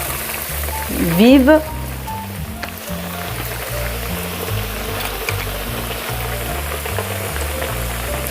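A breaded Milanese escalope frying in hot oil, a loud, steady crackling sizzle throughout, with a brief louder flare early on and a single spoken word heard over it.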